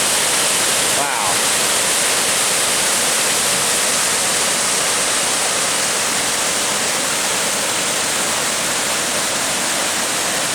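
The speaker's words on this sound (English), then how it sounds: "This is a really awesome waterfall." A waterfall on the Big Stone Coal Trail in the Dolly Sods Wilderness, West Virginia, roars loudly and close in a dense, unbroken wash of white-noise spray.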